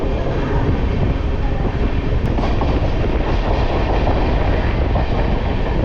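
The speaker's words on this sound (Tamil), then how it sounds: "எக்ஸ்பிரஸ் ஸ்டார்ட் ஆயிடுச்சுங்க." The Cholan Express rumbles continuously with loud, broadband noise and faint rhythmic clatter, no voices, as it pulls away from a station.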